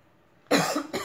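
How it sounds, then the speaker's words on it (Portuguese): Two harsh coughs burst out close by after a moment of near silence, the second shorter than the first. "Vou tossir, gente, peraí."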